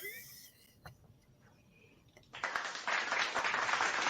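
Small studio audience breaking into applause and clapping on a banter talk show, starting faint and then swelling into a loud, sustained round of clapping during the second half.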